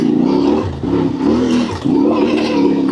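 A CF Moto 450 MT motorcycle engine revs hard in first gear on a boggy lane, loud and close, with the pitch rising and falling in repeated surges and brief dips between them.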